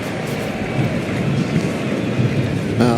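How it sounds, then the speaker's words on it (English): Steady rain pours over an outdoor baseball game between the Colorado Rockies and Baltimore Orioles, a dense, even hiss filling the whole stretch with a brief brighter burst near the end. "It's raining."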